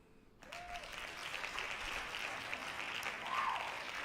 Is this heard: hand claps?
yes